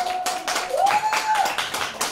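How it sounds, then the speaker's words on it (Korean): Audience clapping along in a steady beat at a live trot singing event held by a singer's fan club, with a sustained held tone running above the claps. "자, 박수 한번 드시죠"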